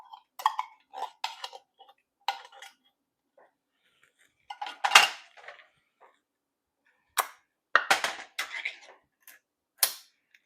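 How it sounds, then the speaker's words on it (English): A metal spoon scrapes and taps against the inside of a small can of chipotle peppers in adobo sauce, producing sparse, sharp clinks and short scraping bursts separated by pauses, close and fairly quiet. "Let me get a spoon that doesn't seem to want to get out all of the sauce out of there."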